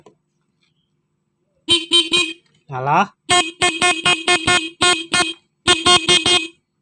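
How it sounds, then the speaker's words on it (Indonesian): A Yamaha Vixion motorcycle horn beeps repeatedly in short, sharp bursts, close and loud, with a brief spoken word between the honks. "Ini klaksonnya."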